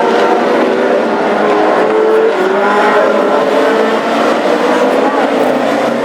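Classic hot rod cars race in a frenetic heat at Hednesford, their engines a dense, continuous roar with shifting revs throughout, loud and sustained with no break, while commentary may run underneath.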